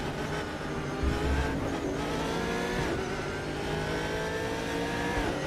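A racing car engine in the RaceRoom video game screams at high revs, pitch climbing and dropping through gear shifts, loud and continuous with no talking.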